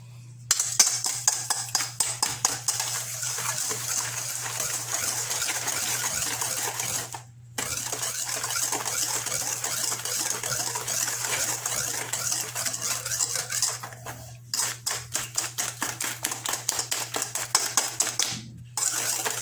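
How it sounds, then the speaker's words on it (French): A whisk beats eggs and sugar in a bowl for a quick chocolate cake, striking the sides in fast, steady metallic clatters that continue for long stretches, broken by a few short pauses, with no speech. "je fouette mes œufs avec mon sucre."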